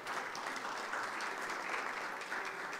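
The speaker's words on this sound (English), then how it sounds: "So would you give them a round of applause," A church congregation applauds during a live-streamed bluegrass worship service, a short steady burst of many hands clapping, heard at a modest level throughout.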